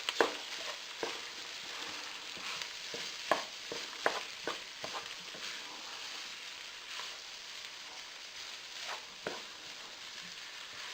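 Tomato puree cooks in a pan with a low continuous sizzle, while a utensil stirs it with scattered light scrapes and clicks, close and fairly quiet with no voices.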